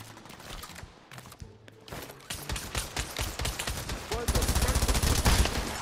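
Gunfire in a VR shooter game, with scattered shots at first, then dense rapid automatic bursts that grow louder and continuous toward the end.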